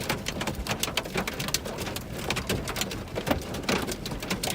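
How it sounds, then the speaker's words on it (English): Hail falls during a weak supercell storm in Wyoming, a dense, steady rattle of impacts with no break and no voices. "You guys can hear that hail falling."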